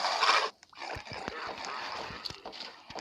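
Several dogs barking in a busy Roblox game soundscape, with clattering steps and effects, loud and close throughout.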